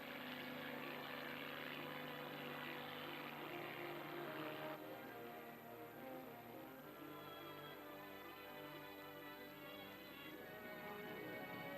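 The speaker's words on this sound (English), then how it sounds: "Helicopters head toward the Zero Island." Drone aircraft and helicopters flying over Zero Island during the 1948 Operation Sandstone atomic test, a steady loud engine drone with propeller whir on old film audio, the tone shifting midway.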